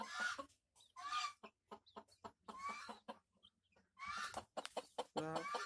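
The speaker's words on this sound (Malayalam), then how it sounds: "ഇതൊക്കെ അവിടെ വിരിഞ്ഞിറങ്ങിയ നാടൻ കോഴികളാണ്" Native chickens hatched on a farm in Sulthan Bathery cluck in a series of close, uneven bursts separated by short quiet gaps, with no talking.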